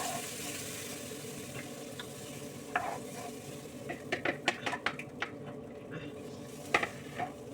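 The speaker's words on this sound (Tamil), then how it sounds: "ஸ்டவ்வை ஆஃப் பண்ணிவிட்டு தயிர் சேர்த்துக்கிடுவோம்." Curd is stirred into a pan on a switched-off stove, with a soft, quiet background hiss and intermittent light scraping and clinking of a spoon against the pan.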